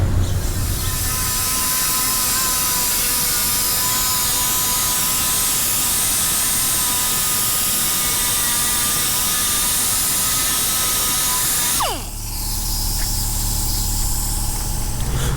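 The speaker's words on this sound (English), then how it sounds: "little angle grinder. Now I sand all this down." A small angle grinder sanding down a fiberglass bumper lip on a 1979 Chevy Malibu, a loud, steady high-pitched whine with gritty abrasive grinding that runs nonstop, then drops in pitch and spins down near the end.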